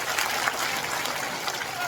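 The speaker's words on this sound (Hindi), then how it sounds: "हमारे जो हेडमास्टर हैं उनका जोरदार ताली बजा करके आप लोग स्वागत करिए" An audience at a school event gives sustained, even applause to welcome the headmaster, a steady wash of clapping that sounds moderately distant, with no pauses or swells.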